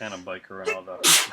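A person sneezes once, a sharp loud burst near the end, right after someone talks about a limited-edition Blu-ray cover.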